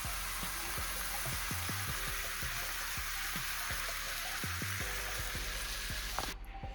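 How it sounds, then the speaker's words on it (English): A pulled pork quesadilla browns in a buttered, pre-warmed skillet on low heat, giving a steady, close sizzle and crackle with faint pops throughout. "So I'm gonna put this in this skillet, a pre-warmed skillet, and let it brown good"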